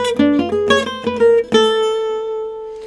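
Gypsy jazz guitar lick picked as a quick run of bright, bouncy notes that lands on a final note ringing out and slowly fading, played solo and close.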